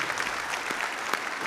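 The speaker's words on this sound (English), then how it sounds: "let's give all of our sponsors a big round of applause" Applause for the sponsors at the opening ceremony of the 2024 South Texas All Hazards Conference, a steady, fairly faint wash of clapping from an audience with a couple of sharper claps standing out.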